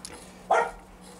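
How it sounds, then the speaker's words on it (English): A single short dog bark sounds once at moderate distance in a garage where a Reliant 850 trike is being worked on, standing out briefly over faint background noise. "Dog's been a knobhead again."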